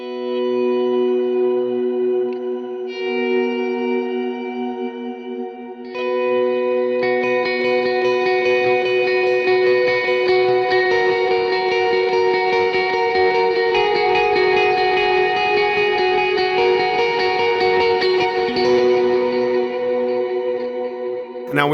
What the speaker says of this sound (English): you're gonna get like all those ambient type delays, but there's a shimmer component.